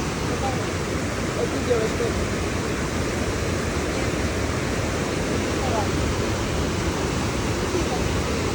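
Rushing water pours down a Carpathian waterfall over rocks, a constant, loud broadband roar heard close throughout, with faint voices barely showing through the noise.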